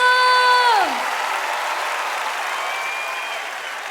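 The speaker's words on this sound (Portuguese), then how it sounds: "Aplauda mais forte ao Senhor." Crowd applause at a live gospel worship concert, a broad steady roar of clapping that continues as a held musical chord fades out at the start.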